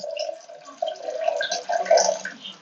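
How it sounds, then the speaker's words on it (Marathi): Water pours and splashes into a pressure cooker pan of dried Bombay duck curry in uneven gurgling bursts, close and moderately loud. "आणि नंतर आता यामध्ये पाणी ऍड करायचं आपल्याला"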